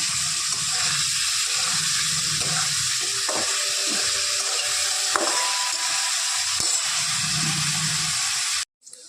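Paneer cubes fry in a pan for a spicy pea and paneer curry, giving a steady soft sizzle with occasional light clinks and stirring scrapes, moderately close, before cutting off abruptly near the end.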